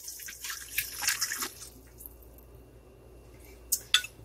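Chicken broth poured into a pot for mole, a soft close splashing trickle for about a second and a half, then quiet with a couple of faint drips and small clinks near the end.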